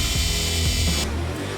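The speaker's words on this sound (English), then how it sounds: "we're going to drill our pilot holes" A power drill whines at high speed while drilling pilot holes for a DIY skoolie RV skylight, running loud and close, then cutting off near the end.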